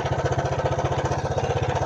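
A small Suzuki LT160 quad runner ATV engine runs close by with a rapid, steady, pulsing chug, loud and continuous throughout.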